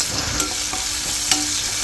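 Onion, asafoetida and green chili frying in a pan, a steady close sizzle with a couple of brief stirring scrapes, no voices.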